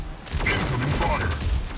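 Incoming gunfire in the Mech Arena mech combat game, a rapid burst of weapon fire and mechanical clatter lasting under two seconds with a voice speaking over it.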